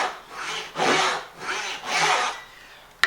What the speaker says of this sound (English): saw out the pyramid in the middle.